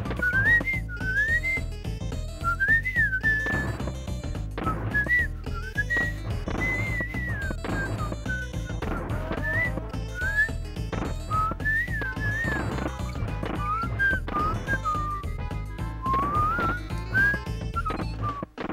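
Someone whistles a bright, repeating melody along with Donkey Kong Country game music, with clear rising phrases on top of the steady, full soundtrack and no talking.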